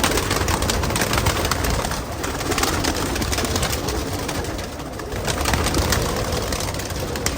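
Continuous soft cooing from a flock of Rampuri pigeons kept at a loft, a dense even wash of bird sound with faint engine noise underneath and no voices.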